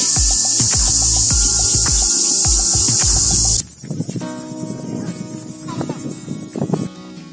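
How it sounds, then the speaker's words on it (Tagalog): Loud, dense crickets chirp continuously in a shrill, high-pitched drone in Kenting National Recreation Park, with a break in tone midway and other insect or bird calls mixed underneath. "Ang ingay ng mga kuliglig."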